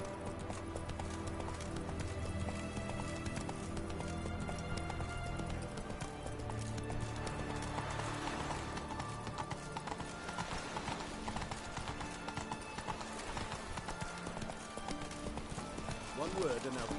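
Roach the horse gallops in The Witcher 3 video game, a steady, dense drum of hoofbeats running throughout with an occasional whinny, mixed under talk and game music.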